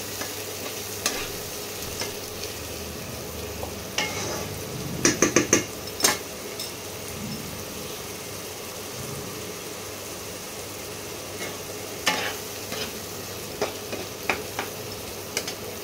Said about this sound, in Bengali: একটু পেঁয়াজটা ভাজা ভাজা হোক, তারপর অন্য মশলাগুলো দেবো।